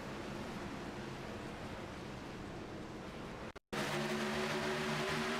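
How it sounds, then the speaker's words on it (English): Race car burnouts over the Daytona logo in the iRacing sim, a steady, loud engine drone with tire roar filling the whole stretch, cut by a brief dropout near the end before the droning resumes. "currently doing burnouts right now over the Daytona logo"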